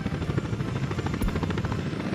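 A helicopter in the game Workers and Resources: Soviet Republic gives a steady, loud rotor chop with a dense engine whine, continuous and close, with no voices.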